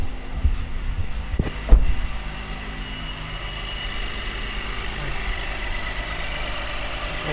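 A Honda Pilot SUV engine idles steadily just after a spark plug change, a low, even rumble close by with a couple of faint knocks near the start and no talking.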